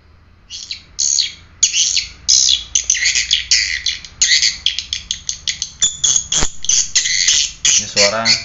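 A recording of swiftlet calls played through an amplifier: dense, rapid chirping bird calls repeat in quick bursts, loud and close, with a twittering electronic quality like a looped playback.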